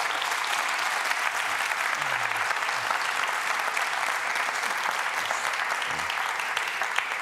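Steady, dense audience applause fills the whole stretch at an even level, a broad wash of many hands clapping at a business talk with no voices above it.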